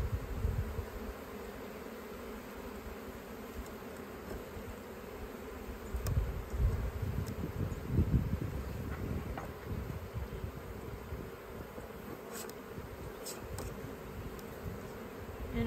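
Honey bees buzz around an open hive in a dense, continuous drone that swells briefly midway, close and steady throughout.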